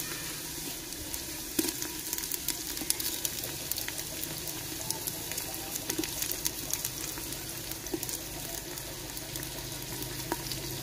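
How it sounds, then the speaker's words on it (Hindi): Tomatoes hitting a pan of frying ginger and garlic in a village-style mixed vegetable sabzi, with a steady close sizzle and occasional stirring scrapes throughout. "अभी अदरक और लहसुन को थोड़ा सा भूनने के बाद अब टमाटर हम शामिल करेंगे।"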